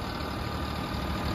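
A John Deere 5310 tractor fitted with a backhoe loader attachment runs at 1500 RPM, producing a dense, steady diesel rumble with constant knocking pulses, loud and close, with no talking.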